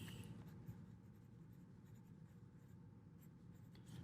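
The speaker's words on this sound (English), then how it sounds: "write your name at the top" A pencil scratches steadily across paper while a name is written at the top of an art sheet, producing quiet, close, continuous scribbling strokes with no talking.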